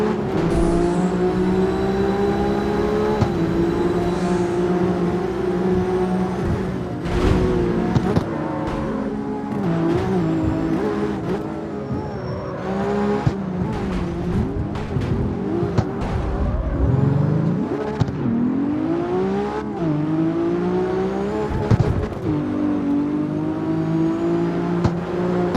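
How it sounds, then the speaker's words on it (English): A Porsche racing in the CarX Street video game, its engine revving and shifting through rising and falling pitch sweeps, with tire squeals and a faint voice now and then. "Porsche is very quick"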